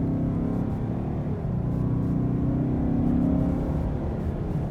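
2021 Ford Explorer engine given a little gas, a low steady idle that swells into a mild, gentle rev and settles, close and fairly quiet with no voices.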